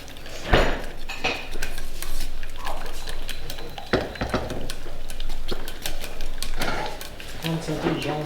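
Cheese stirred into a chicken pie filling in a pan, with sharp clinks and scrapes of a utensil against the pan, a few louder knocks, and someone talking over the stirring.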